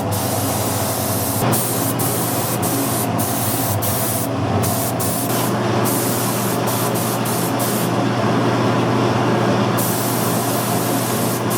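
Spray gun applying Cerakote H series coating at about 20 psi, a loud, steady close hiss running throughout with a few brief breaks and trigger clicks.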